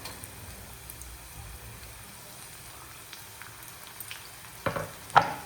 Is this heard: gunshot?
no